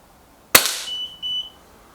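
An Artemis P15 air pistol fires a single sharp, close crack, followed moments later by a couple of short electronic beeps.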